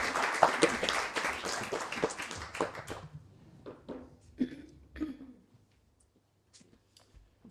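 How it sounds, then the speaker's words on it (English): Applause from a storyteller-night audience for a first-time performer, a burst of dense clapping for about three seconds that thins into scattered claps, a cough or two and fading taps before near silence. "give him a really, really, really big round of applause"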